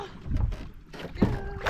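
Canoe paddle strokes on a lake in Algonquin Park during a multi-day canoe camping trip: a few quick, close splashing pulls through the water over light wind noise.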